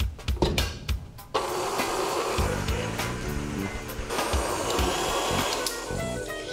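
Electric stand mixer beating butter with brown and white sugar for cookie dough, a steady loud motor whir with rattling and knocking, starting after a few brief clicks and running continuously to the end.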